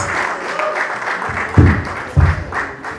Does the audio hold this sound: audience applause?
yes